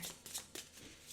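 Tarot cards being shuffled for a reading, a few quick soft riffles and slides of the deck, faint and close.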